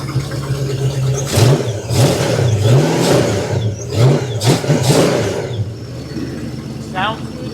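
A truck engine with a flat tappet cam idles and revs near the microphone, rising and falling, while voices talk over it.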